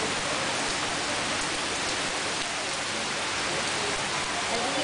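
Steady rain pours throughout in Santa Cruz, a dense even hiss of drops on surfaces with no pauses, loud and close for the whole stretch.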